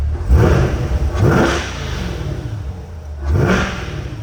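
A 2021 Corvette Z51 engine revs hard several times up close, each surge climbing sharply and then falling back to a throaty idle.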